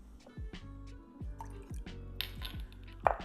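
Two tablespoons of water go into a potsticker dipping sauce, with a few soft, close pouring and dripping sounds in short gurgling bursts, ending in a small clink.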